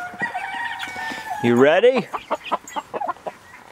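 Two barred rock roosters cluck and call close by in a pen, with a loud, rising crow-like squawk in the middle followed by a run of short, rhythmic clucks. A person speaks briefly at the start.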